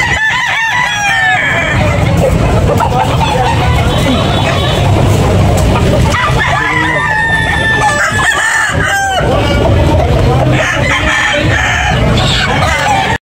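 Roosters crow repeatedly amid a noisy crowd at a gamecock market in Tabunok, Talisay, Cebu, with many voices chattering, babbling and haggling over prices in the background throughout.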